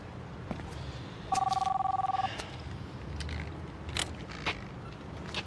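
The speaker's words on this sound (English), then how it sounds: "Phone's ringing." A telephone rings in a drama scene: one clear electronic ring burst lasting about a second, loud against a background of room noise and faint movement.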